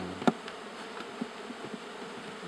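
Honeybees buzz around an open beehive, a steady close drone of many insects with a few brief knocks and taps, and no talking.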